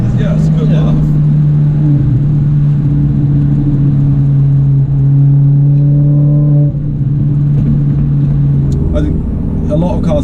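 A Fiat Panda 100HP under full throttle, the engine droning loud and close with a steady low tone that climbs slightly before easing off near the end, heard from inside the car.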